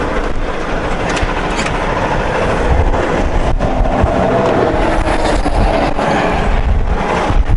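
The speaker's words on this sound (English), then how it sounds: "I'm going to leave the engine idling for just a little bit because that's a long climb." A heavy truck engine idles after a long climb near a roadside scale, a loud, steady low rumble with a continuous drone and occasional rattles, no talking over it.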